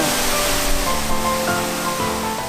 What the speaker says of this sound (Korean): 레바논에서 시작돼 폭포를 이루고 이스라엘로 흘러들어가는 물줄기